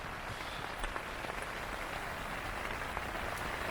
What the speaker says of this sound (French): Il pleut méchamment.